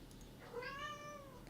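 A cat gives a single drawn-out meow in a quiet indoor room, rising and then falling in pitch. The meow is moderately faint and close, with no talking.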